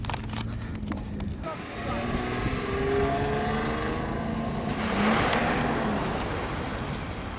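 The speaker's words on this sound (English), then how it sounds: "We're going to watch this girl absolutely rip her Jeep." A Jeep engine revs hard while being driven aggressively off-road, a loud sustained roar rising and falling in surges with wind and rumble; people talk over it.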